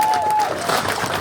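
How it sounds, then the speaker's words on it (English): A crowd claps and cheers for a speaker at an outdoor protest rally against digital ID and in support of farmers, steady applause filling the whole moment with voices mixed in. "Let's give Paul a large round of applause, Paul."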